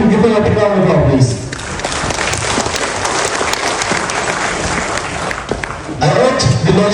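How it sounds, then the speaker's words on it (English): Audience giving a big round of applause at a public gathering, loud dense clapping sustained for several seconds between stretches of someone speaking through a microphone before and after. "So then give them a big round of applause, please."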